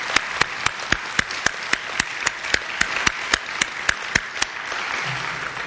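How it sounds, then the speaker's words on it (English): An audience applauds at an evening lecture with steady, evenly spaced claps standing out from a wash of crowd clapping, sustained for several seconds at moderate loudness, with no talk. "A round of applause for them."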